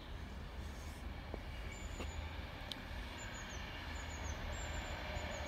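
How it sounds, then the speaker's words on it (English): A Virgin Trains Pendolino rumbles past at Lancaster on the West Coast Main Line, a continuous dense roar of wheels on rail with faint high squeals, steady and fairly near throughout. "Coming around the bend is another Virgin Trains West Coast Pendolino service to London Euston."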